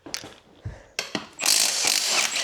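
Clicking ratchet work on the lug nuts of a four-wheeler's front wheel, a few short metallic bursts followed by a denser run of rapid ratcheting, close by.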